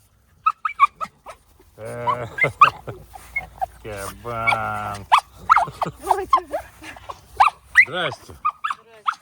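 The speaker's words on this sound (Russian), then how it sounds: "Собаки, собаки." Farm dogs greet an arriving owner with excited high whines and whimpers, mixed with a few short barks, while someone speaks to them between the sounds.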